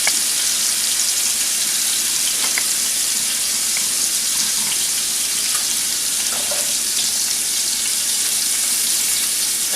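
Beef browning in a hot pan for homemade beef stroganoff, a loud, dense, steady sizzle that carries on without a break, close up with no talking.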